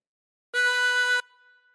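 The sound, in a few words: tremolo harmonica, breathing in through hole 8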